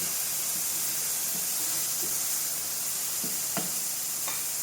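Onions fry in a pan with a soft, continuous sizzle and hiss, broken by a few faint clicks and light stirring taps near the end, with no one speaking.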